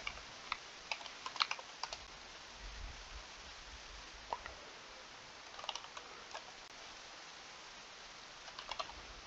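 Quiet typing on a computer keyboard while writing C# code in a Windows Forms app, with irregular bursts of light key clicks separated by short pauses.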